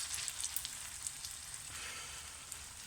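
Kimchi pancake frying in a pan of hot oil, a soft steady sizzle with faint crackles and pops, quiet and alone.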